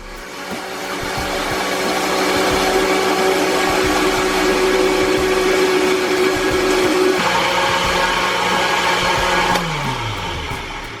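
A kitchen blender runs steadily with the small cap on its lid in use, a loud continuous motor whir that holds for several seconds, then shifts pitch and winds down near the end, with no talking.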